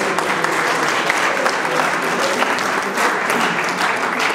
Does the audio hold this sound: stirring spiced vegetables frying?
no